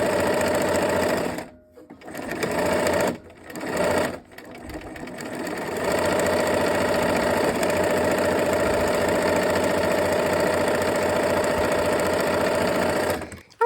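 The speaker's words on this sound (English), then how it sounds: "All right, let's go ahead and sew." A sewing machine stitches fabric pieces together with a steady mechanical whir, stopping briefly twice near the start and then running continuously and fairly loudly to the end.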